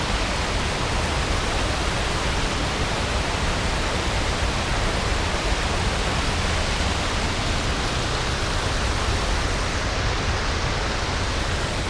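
A mountain waterfall, fed by a stream flowing off a cliff, roars in a loud, constant broadband rush of falling water, close and unbroken, with no voices.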